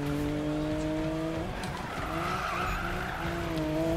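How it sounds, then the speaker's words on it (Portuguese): A Toyota Supra drifts in the Need for Speed video game. A steady engine drone runs under sustained tire squeal that swells and fades as the car slides. "eu consigo derrapar bem pra caramba"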